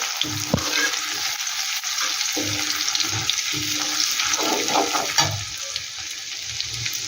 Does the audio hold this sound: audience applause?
no